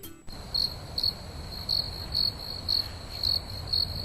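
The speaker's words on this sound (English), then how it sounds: "You hear those crickets?" Crickets chirp in short, evenly spaced bursts over a faint steady hiss, with no voices.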